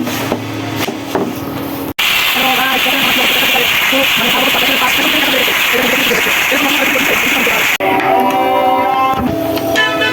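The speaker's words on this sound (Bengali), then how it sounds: "আমি ডিমের তেলের মধ্যে পরোটা ভেজে নিচ্ছি" Parathas fry in egg-flavoured oil in a pan, a loud steady sizzle and hiss that holds for several seconds, broken by brief handling clatter at the start and end.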